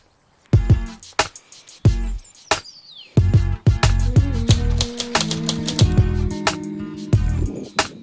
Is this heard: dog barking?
no